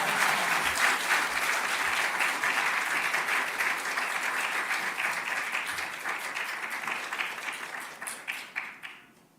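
Korean church congregation at a Sunday service in Perth applauding as a missionary comes forward, with sustained dense clapping that slowly fades toward the end, finishing with a few scattered claps.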